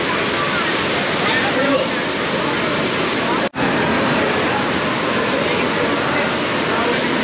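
Fast, heavy river current near Manikaran Sahib on the way to Kasol, a loud, steady broadband rush close by, with a brief dropout partway through before the torrent resumes unchanged.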